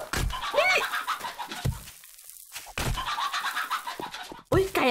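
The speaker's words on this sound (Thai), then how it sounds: "ไก่อะไรมันจะตื่นขนาดนี้โดนกวาดสับหลายทีแล้ว" Chickens in the zombie survival game 7 Days to Die cluck and squawk repeatedly in agitated bursts, loud and close, with a brief quiet gap in the middle and game noise around them.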